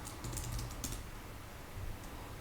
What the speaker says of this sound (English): then I will type cd for change directory